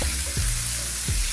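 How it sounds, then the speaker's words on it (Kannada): Chopped tomatoes frying in oil in a pan for egg sambar, a steady loud sizzle with a couple of soft stirring scrapes and no talking. "ಎಣ್ಣೆ ಹಾಕ್ಕೊಂಡು ಚಂದಗೆ ಎಲ್ಲ ಹುರ್ಕೋತೀವಿ"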